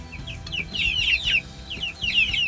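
Chickens of the American breed with feathered legs and a pea comb cluck close by in short bursts that repeat, and no one talks over them.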